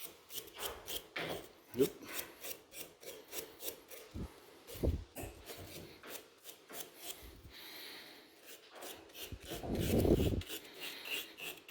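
A wooden tailstock knob is scrubbed by hand, making a close, rhythmic rasping rub in quick repeated strokes, with a longer heavier scrub near the end; someone briefly says a single word.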